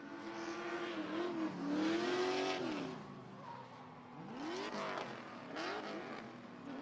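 Toshiki Yoshioka's VA-powered S13 drift car on Cooper tires at a Formula Drift round in Wall Stadium, New Jersey, its engine revving and wailing at a distance with rising and falling pitch sweeps, fairly faint and steady.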